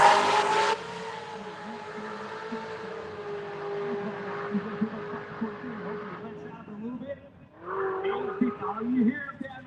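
A drag racing car engine, its driver pedaling the throttle, revving and dropping in uneven bursts at a distance, with a track announcer talking over it.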